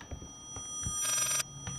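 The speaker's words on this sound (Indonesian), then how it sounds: "Itu cuma telepon yang berdering." A telephone rings in the horror video game Layers of Fear, giving a short bright electronic ringing burst between softer thumps and low ambient noise.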